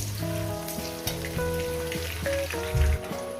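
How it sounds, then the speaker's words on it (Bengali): Potatoes frying in oil in a pan give a soft, steady sizzle under louder sustained tonal music that dominates the mix. "আলুটা আগে দু মিনিট ভেজে নেবো"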